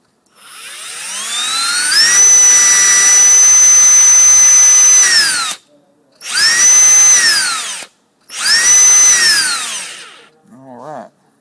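A freshly oiled electric power tool motor spins up to a loud, high whine three times. Each run holds briefly, then cuts off and winds down, and a short low rattle follows at the end.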